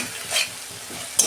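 Tomato fries with a ginger-cumin masala and dried chilli, a brief close crackling sizzle with a couple of sharp stirring scrapes.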